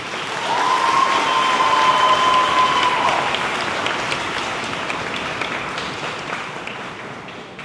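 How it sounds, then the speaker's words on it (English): Audience applause at a spring school band concert, a broad steady patter of many hands that swells early and slowly fades, with a brief sustained tone near the start. "how about one more round of applause for Ida Edwards and Katie DeForest"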